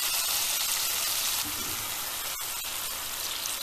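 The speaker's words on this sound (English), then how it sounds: "All that sizzle is because of the tomatoes bursting open." Loud, steady sizzling and frying of cherry tomatoes in a pan, with a couple of sharp pops as tomatoes burst open in the hot oil.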